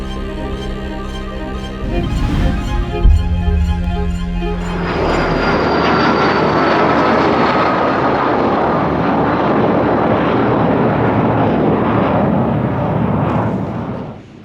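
A passenger airplane roars close by at the runway of Gibraltar airport, a loud sustained jet rush swelling after a brief rumble and holding steady before cutting off at the end.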